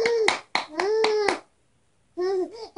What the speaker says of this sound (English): Can you do it again? Clap. Clap, clap, clap.